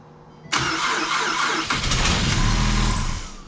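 A Ford Mustang engine, likely low on oil, cranks and catches abruptly, then roars and runs loudly and steadily before easing slightly at the end.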